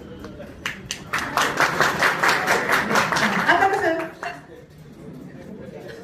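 Audience clapping breaks out in a hall during a Marathi song programme, a dense burst of claps building for a few seconds then fading, with a speaker's voice heard around it.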